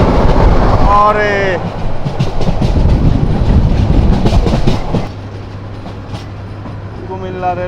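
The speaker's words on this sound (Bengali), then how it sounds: "সামনে কিন্তু আসতেছে বাংলাদেশের আর এক কিং, নন স্টপ সোনার বাংলা এক্সপ্রেস" The non-stop Sonar Bangla Express rushes by on meter-gauge track in Bangladesh: a loud, close roar of wagons with rhythmic clickety-clack, horn blasts at the start and end, fading to a lower rumble as the train passes.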